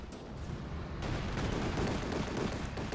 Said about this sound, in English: nice strafing run there, getting rid of both AT guns